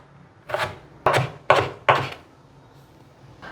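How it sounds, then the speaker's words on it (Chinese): Carrots being chopped with a knife on a cutting board, four distinct close, crisp chops at an even pace. "把红萝卜切碎"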